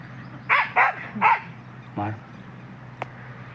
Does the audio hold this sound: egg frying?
no